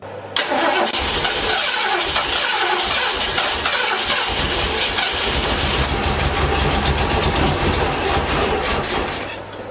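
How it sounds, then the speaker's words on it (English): An old car's engine is cranked over and over by key with the pedal pumped, a fast rhythmic whirring starter churn that holds steady and loud for nearly ten seconds without catching, with no talk. "you turn the key but you keep trying and trying, keep turning that key, pumping the pedal"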